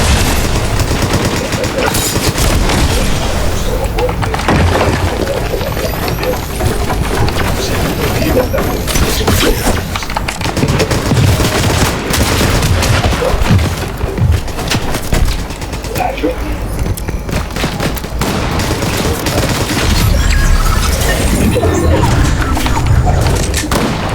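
Dense Fortnite gunfire with rapid bursts, thuds and explosions throughout a chaotic battle, loud and continuous, with players talking over the noise.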